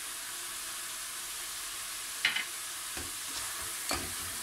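Olives and chopped parsley sautéing in a pan, a steady hissing sizzle throughout with a few scattered utensil clicks and stirring knocks, close up and no voices.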